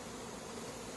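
Honey bees buzz around an opened hive in July, a dense, steady drone that holds without a break and never rises much.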